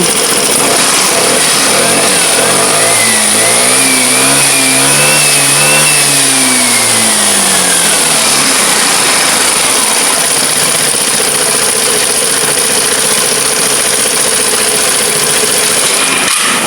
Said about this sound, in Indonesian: Dan ini RPM sudah 10 detikan, ini tidak turun.